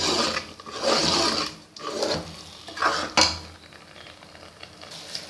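Palak gosht being stirred and fried in oil in a pot, with uneven scraping strokes and rasping sizzle that come and go as the spoon works through it.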